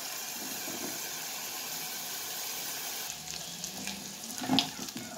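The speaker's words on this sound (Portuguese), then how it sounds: "a gente vai fritar essa carne" Meat fries in a pan, a soft continuous sizzle that grows busier in the second half with light crackles and a small clatter near the end; no one speaks.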